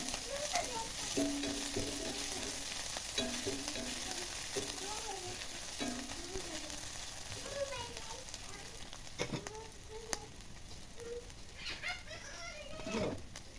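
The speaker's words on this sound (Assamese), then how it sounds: "পিঁয়াজটো অকণমান সিজাৰ পাছত এয়া আদা অকণমান নহৰু অকণমান দিছোঁ" Onion, ginger and garlic frying in a clay wok for a pork dish, a steady close sizzle with occasional stirring scrapes, while a voice talks and children can be heard in the background.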